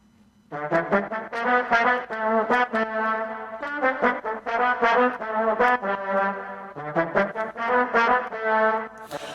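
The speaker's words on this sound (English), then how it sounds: "my trombone sound, which sounds like this." A trombone plays a bouncy, rhythmic riff of short punchy notes in repeated phrases, moderately loud and unaccompanied by voices.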